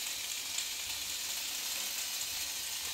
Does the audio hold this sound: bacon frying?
yes